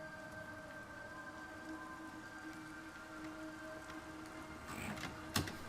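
Steady rain hisses through a quiet outdoor scene in the game Everybody's Gone to the Rapture, with distant tonal hums beneath and a brief louder splash or knock near the end.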